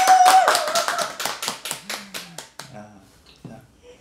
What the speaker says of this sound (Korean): 오늘 하루도 잘 살고 오신 리더님들 스스로를 위해서 박수로 시작하겠습니다.